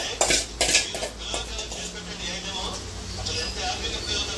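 Yogurt is stirred into tomato rice in a pan, with a few sharp metal spoon clinks and scrapes at the start, then softer mixing under a voice.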